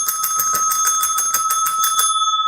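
A bell rung in a rapid, rhythmic series of bright metallic dings, loud and close, ending in a ringing sustained tone that fades out, with no speech.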